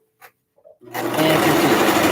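A home sewing machine starts up after a couple of faint clicks and then runs steadily, stitching a tufted pillow with a close, continuous whirring hum.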